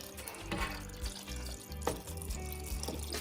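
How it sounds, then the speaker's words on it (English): Cold water runs steadily from a tap into a sink, splashing over okra, with a few clunks and knocks as things are handled. "I'm bathing my okra with some cold water"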